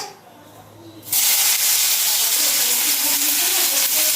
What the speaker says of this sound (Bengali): এবারে দিয়ে দিচ্ছি তেলের মধ্যে কুচনো পেঁয়াজ